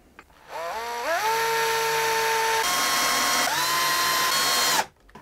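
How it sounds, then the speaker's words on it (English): Small wooden pieces being drilled for a shaping mould: a power drill spins up with a rising whine, holds a steady high-pitched drone for several seconds, briefly changes pitch, then stops, close and alone. "The upper two can be drilled and screwed in the center."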